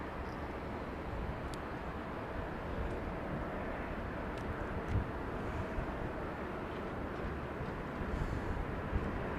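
A Boeing 737 MAX airliner with CFM engines lands at London Heathrow in a crosswind, heard as a steady, fairly faint, distant broadband jet rumble with some wind noise throughout.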